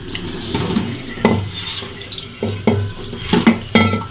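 Tap water runs and splashes over a vase and artificial flowers being washed at a sink, coming in irregular close bursts of gushing and spattering with short quieter gaps.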